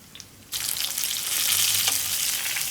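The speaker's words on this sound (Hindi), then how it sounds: "बहुत अच्छे तरीके से ये फ्राई हो चुके हैं" Stuffed karela, bitter gourds filled with qeema, browning in hot oil, a quiet moment giving way to a loud, dense, continuous sizzle and crackle that holds steady to the end.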